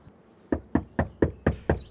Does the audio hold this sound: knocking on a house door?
yes